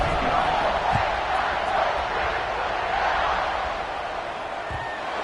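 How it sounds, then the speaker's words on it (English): Stadium crowd buzzing in an NCAA football video game, a steady wash of broad murmur and roar that holds evenly and fades slightly near the end, with commentary over it. "this crowd is buzzing after that last score"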